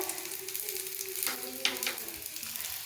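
Sesame seeds and garlic sizzle in hot oil in a pan, a steady close crackle with a few sharper pops and stirring scrapes partway through.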